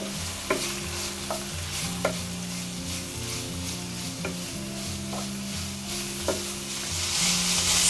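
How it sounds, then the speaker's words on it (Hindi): Shredded cabbage, carrot and capsicum stir-fried over high heat for veg chowmein, giving a steady loud sizzle under repeated scraping stirs of a spatula against the pan, close up and without talk. "अब इसमें हम 1 कप पत्ता गोभी डालेंगे, आधा कप गाजर, आधा कप शिमला मिर्च। तेज आंच पर लगातार चलाते हुए 2 मिनट पकाएंगे।"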